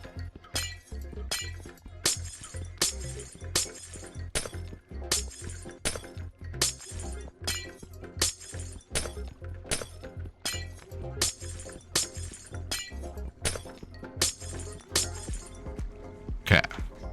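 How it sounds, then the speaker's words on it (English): Glass breaking again and again in Minecraft, a rapid series of sharp shattering crashes at a fairly steady rhythm, each one bright and brief, continuing throughout with no talk. "I know how much the glass breaking noise can be"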